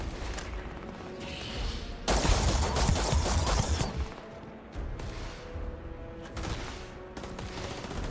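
Starfield combat gunfire: bursts of automatic fire and a heavy, dense volley in the middle, then scattered shots, fairly close and loud without speech.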